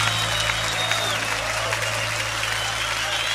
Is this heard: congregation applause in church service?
yes